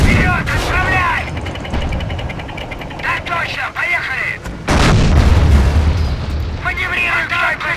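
Booming artillery fire and shell blasts from the Company of Heroes Eastern Front strategy game roll out in loud, repeated bursts, with a voice talking over the barrage.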